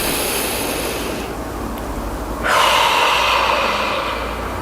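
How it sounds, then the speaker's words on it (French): A deep breath drawn in and let out during a calming guided meditation, heard as a steady airy rush that swells louder in its second half, close and alone with no talking. "Encore une fois, prenez un grand inspire. On expire."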